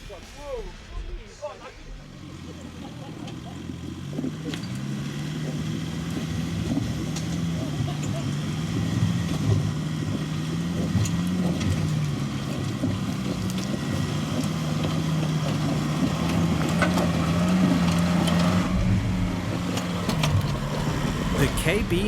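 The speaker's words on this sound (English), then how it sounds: "They are in an Isuzu KB300, and Frank starts the climb in rather brisk fashion." An Isuzu KB300 4x4 grinds up an off-road obstacle at a 4x4 club challenge, its engine droning steadily and surging under load, with wind buffeting and a voice talking over it throughout.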